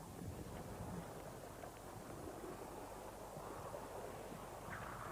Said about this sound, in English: Out into the wind again.